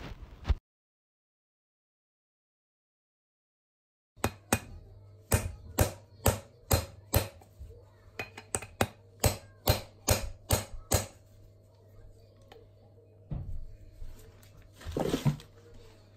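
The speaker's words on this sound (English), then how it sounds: "I'm going to get a 3/4 inch socket and just very lightly tap that just below the surface of the upper arm." A 3/4 inch socket lightly taps a bearing into a classic Mini upper arm on a workbench: after a silent pause, a quick series of about fifteen sharp metallic knocks, then a few scuffing handling noises, close and alone.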